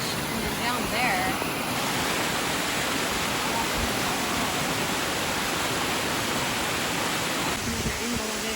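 Creek water cascading down a rock ledge on Perry Creek Trail, a steady broad rushing roar that fills the whole clip, close and constant with no pauses.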